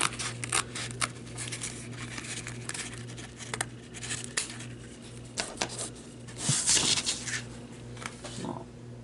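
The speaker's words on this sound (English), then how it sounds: "I'm going to cut it close to the edge, but not right up to the edge." Scissors make a string of quick, close snips while rough cutting around a shape in glitter vinyl for a vintage Christmas book cover ornament, with light rustling and handling noises between the cuts.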